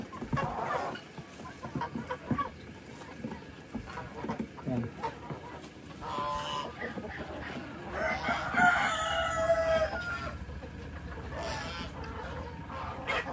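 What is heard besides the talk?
chickens clucking and rooster crowing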